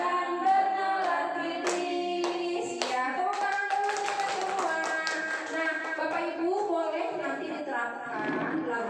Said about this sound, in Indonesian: Ya, tepuk tangan dulu semua.